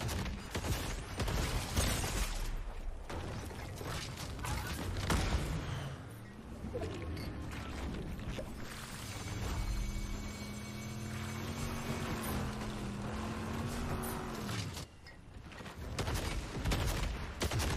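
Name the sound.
pirate cannon firing in the video game Fortnite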